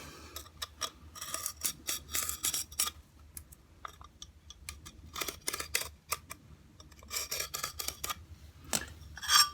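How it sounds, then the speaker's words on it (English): A tile scribe scratching a line across a wall tile along a straight edge: faint, short scraping and ticking strokes in irregular bursts, close up with no talk. "I put it on those marks and I scribe a line"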